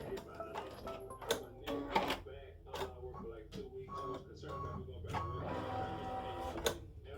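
An embroidery machine stitches stem-stitch flower buds in a fast, uneven run of mechanical clicks and taps with a faint motor whir, close and fairly quiet, with an occasional soft voice underneath.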